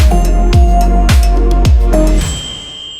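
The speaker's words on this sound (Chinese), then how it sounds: "然后添加上这个风铃音效" A wind chime sound effect rings out at the end of a music track, bright shimmering metallic tones over a few heavy rhythmic beats that fade into a lingering chime tail.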